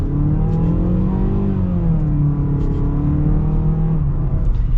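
A 2022 Mazda CX-5 with a 6-speed automatic accelerates steadily, its engine note rising and holding through the gears, heard from inside the cabin with a constant road rumble underneath.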